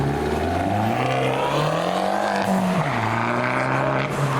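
Cars leaving a car meet at night, an engine revving up and down loudly close by, with rising and falling pitch as it accelerates past.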